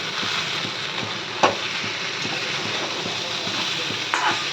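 Mutton masala being stir-fried in a pan gives a loud, steady sizzle with repeated scraping strokes of a spatula and a couple of sharper knocks against the pan, close and constant.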